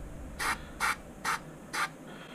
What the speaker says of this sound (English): give that a little bit of a spray inside